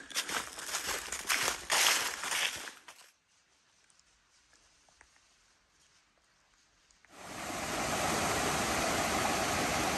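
Comer Creek Falls on the Appalachian Trail, a waterfall heard as a steady broadband rush of falling water that fades out into near quiet for a few seconds, then returns loud and constant.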